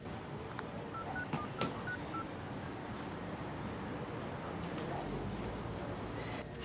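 A telephone number is dialed in an office setting, a quick series of short electronic keypad tones over a low, steady room and traffic hum.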